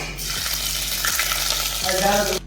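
Whole spices, cardamom, bay leaf, cumin and cinnamon sticks, fry in hot oil as the base for a chicken curry, giving a steady close sizzle that runs unbroken and alone for a couple of seconds.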